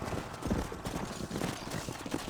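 Horse hooves clip-clop in a steady walking rhythm in Red Dead Redemption, clear and close against a soft ambient background.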